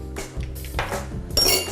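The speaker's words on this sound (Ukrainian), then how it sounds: "Розмішуємо все це з борошном." Flour and baking powder batter stirred in a bowl, a utensil clinking and scraping against the sides in irregular, close-up taps.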